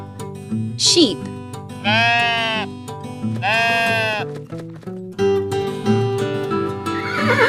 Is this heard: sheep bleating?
yes